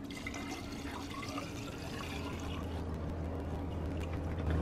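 Water poured into the cooling system of a BMW E46 gives a continuous soft gurgling splash with a low hum underneath, faint and steady throughout, no talking.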